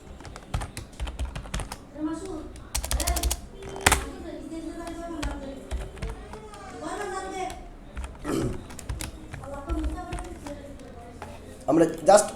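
Keys clatter in quick, uneven bursts on a computer keyboard as a short word is typed into a graphic design program, with a person talking over much of the tapping.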